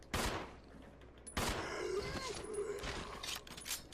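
Gunfire in the video game Resident Evil Zero: two loud sharp bursts, one at the start and another just before halfway, each trailing into echoing game noise and low rumble, with smaller crackles and thuds following.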